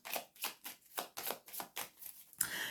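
Tarot cards are shuffled and handled in quick, rhythmic bursts of papery riffling, about eight even strokes in under three seconds, close and fairly quiet, ending with a brief slide.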